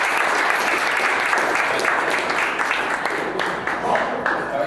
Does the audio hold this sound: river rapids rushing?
no